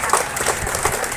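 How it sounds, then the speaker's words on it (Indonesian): Applause from a crowd gathered for the opening of a waste processing building in Jombor Kidul. Dense, steady clapping runs through the short moment without a break, close and fairly loud, with faint voices mixed in. "mari kita sambut penyerahan sarana prasarana ini dengan tepuk tangan yang meriah"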